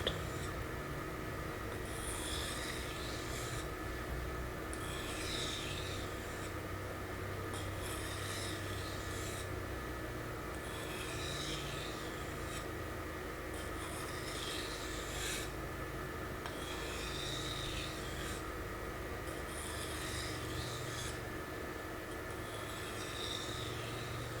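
Steady rhythmic scraping strokes of a blade being sharpened on a Naniwa Superstone 400 grit water stone, a soft wet rasping repeated every couple of seconds over a constant background hum, with no talking.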